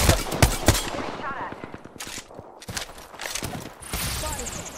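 Gunfire in a video game shootout against replicator enemies, with rapid automatic bursts close and loud, a short pause, then more firing mixed with game effects.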